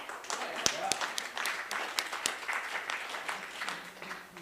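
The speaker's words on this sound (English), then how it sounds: "Round of applause for y'all." Concert audience applauding at a songwriters-in-the-round show, a steady wash of clapping with a few sharp nearby claps standing out, moderately faint, with some talking mixed in.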